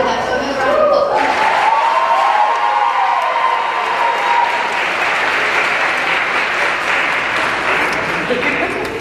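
A loud, full audience applause at a high school winter choral concert, dense clapping mixed with crowd cheering and a few whoops, sustained throughout; a faint tone fades out early on.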